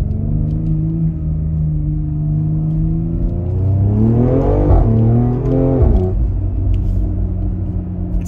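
BMW X3M with a single midpipe exhaust heard from inside the cabin: a steady deep idle rumble, then two quick loud revs that climb and fall, with no talking.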